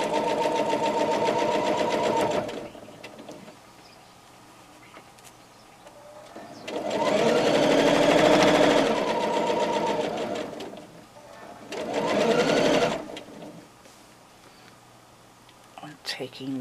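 A sewing machine stitches a pot holder made from fabric scraps, close and whirring in three bursts of a few seconds each. A person talks during the quieter gaps between the runs.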